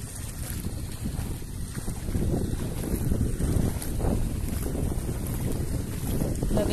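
Strong wind roars and buffets steadily for several seconds, loud and continuous, with rumbling gusts over the open water of Mantangkob River and no voices.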